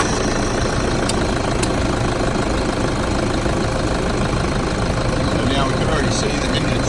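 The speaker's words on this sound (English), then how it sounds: "See the engine's running" A vehicle engine idles steadily after start-up, a continuous low rumble with dense broadband noise, fairly loud and unbroken throughout, with a couple of faint higher clicks.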